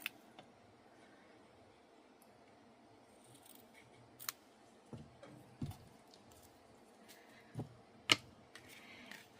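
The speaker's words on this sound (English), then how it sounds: "And then you want to just trim your ribbon ends." Scissors trim ribbon ends on a handmade pop-up cross card, a few sharp quiet snips spaced apart over faint room hiss, with small handling taps between cuts.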